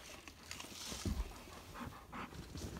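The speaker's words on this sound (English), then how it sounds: "that's a cute puppy" A puppy pants in quick, soft, rapid breaths close by amid light indoor rustling, with a low thump partway through.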